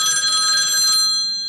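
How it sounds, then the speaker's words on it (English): A telephone bell rings loud and close, a steady metallic trill that fills the clip and fades at the end, heard alone without any talk. "I'll get the phone."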